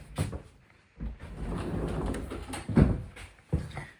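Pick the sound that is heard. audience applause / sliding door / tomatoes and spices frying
sliding door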